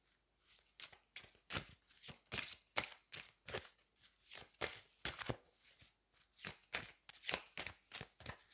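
Oracle cards are shuffled and drawn by hand in soft, rhythmic riffling bursts, close and quiet, repeating steadily with no talking.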